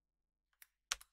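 Several quiet clicks on a computer keyboard, a short burst of key taps with no speech.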